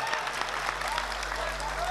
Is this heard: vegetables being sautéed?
no